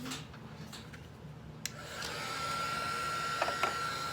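A heat gun blows hot air to dry air-dry clay on a metal surface, producing a steady, moderate whirring rush of air with a faint high whine, broken by a few small knocks.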